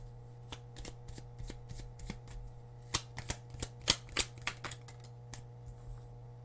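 Tarot cards are shuffled by hand, with a series of crisp riffling snaps and flicks that come in quick, uneven bursts close by over a steady low hum. No one speaks.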